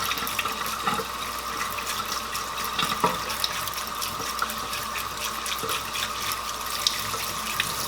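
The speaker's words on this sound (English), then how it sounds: "We're going to run our water back through it again." Tap water runs steadily through a strainer of tomato seeds, a continuous rushing splash into a sink with small irregular spatters and drips over the constant flow.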